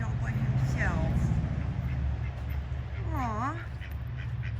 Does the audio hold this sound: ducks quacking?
yes